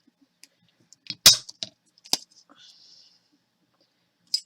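A clear plastic card holder for a pocket-sized planner is punched with a hole punch, giving a few sharp, close clicks and snaps, two of them loud, with quiet handling noises between.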